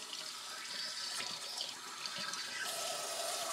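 Water rushes steadily with a hissing, gurgling flow as it is forced backward through a straw-style emergency water filter, close and continuous throughout.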